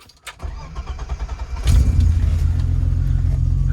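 A BMW E30 325iS engine cranks with a rapid stuttering starter rhythm for over a second, then catches and settles into a loud, steady idle close by.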